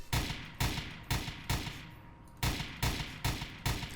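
Sentry gun in Garry's Mod firing single shots in a steady rhythm, about eight loud, sharp reports spaced roughly half a second apart, with a short pause midway.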